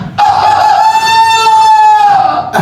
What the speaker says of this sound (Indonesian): Bagaimana suara ayam tadi?